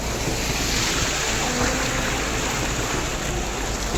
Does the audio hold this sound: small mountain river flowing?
yes